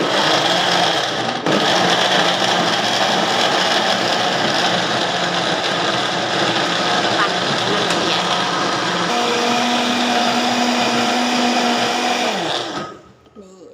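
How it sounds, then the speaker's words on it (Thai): A loud electric blender whirs continuously and steadily, blending ingredients with about a glass of water, its motor pitch shifting partway through, then winds down and stops at the end. "สิปิดฝา เครื่องปั่นแล้วก็ปั่น"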